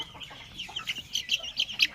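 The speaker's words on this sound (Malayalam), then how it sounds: "നമ്മൾ ഇൻക്യുബേറ്ററിൽ വെച്ച് വിരിച്ചിറക്കിയ കോഴിക്കുട്ടികളാണ്" Incubator-hatched chicks give a run of high, rapid cheeping calls close by, getting busier toward the end, with no voices.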